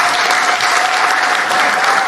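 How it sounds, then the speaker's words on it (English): A brief, loud burst of audience clapping, dense and even, with many hands going at once for about two seconds. "Can you even clap louder for that?"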